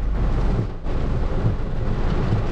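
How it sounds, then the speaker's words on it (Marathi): Heavy monsoon rain pours down at Kondeshwar Mahadev temple near Kamshet, Pune: a dense, loud, steady roar of rainfall that dips briefly before surging back, with no voices. "पावसाने जोर धरलाय"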